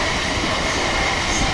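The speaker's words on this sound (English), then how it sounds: "Another train is Memu local is faster moving local to Rampur Hat." A MEMU local train bound for Rampur Hat passes a remote railway gate with a loud, steady rolling roar of wheels and carriages, close by and continuous, with no talk over it.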